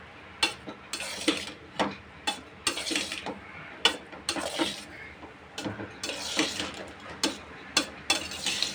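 A spoon works through egg rice in a pan with a string of sharp metallic scrapes and clinks in an irregular rhythm, fairly close and clear, with no talking.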